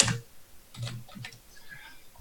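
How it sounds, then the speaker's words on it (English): Typing on a computer keyboard, a handful of close, uneven clicks and taps scattered across a couple of seconds with quiet gaps between bursts. "what the hell am I typing?"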